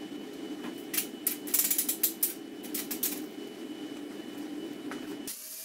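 A grinder or sander rounding the edges of scrap metal for a folding exercise bench, a steady mechanical whir with rapid rough scraping bursts, close and unaccompanied by talk.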